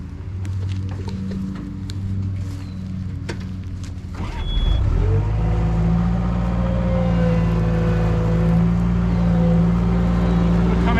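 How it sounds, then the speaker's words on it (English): A skid steer loader works to dig out a stuck John Deere 4020 tractor on mowed grass, its engine idling then revving up loudly and holding a steady, close diesel drone with a brief beep. "film me trying to dig this thing out with the skid steer loader"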